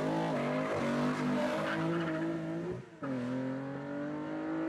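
A Star Road 30Z, an older car, is driven hard on a mountain touge road, its engine howling loud and close with shifting pitch while tires squeal through corners, a brief dip near three seconds, no talk.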